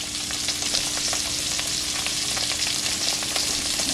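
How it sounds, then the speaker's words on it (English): Salmon fillets fry skin side down in a pan with a steady, loud sizzle and crackle throughout, with small pops scattered over a continuous hiss and no talking. "These are going to cook the whole time,"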